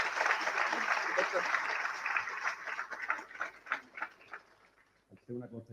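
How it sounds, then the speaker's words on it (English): An international conference audience applauds its interpreters, clapping loud at first and then thinning into scattered claps that fade out, with a voice starting up at the very end. "A round of applause for them."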